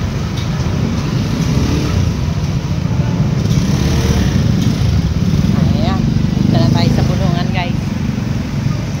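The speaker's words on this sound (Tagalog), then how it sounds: "Kasi maraming motor at madulas ang kalsada." Motorcycles pass on a slippery road. A continuous engine rumble rises and falls under nearby voices talking.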